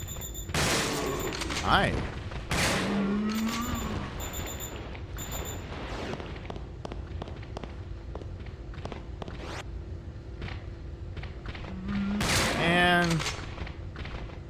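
Shotgun blasts in the video game Resident Evil: Dead Aim: several sharp, booming shots spaced a few seconds apart, with a cluster near the start and another near the end, mixed with game noise and brief talking.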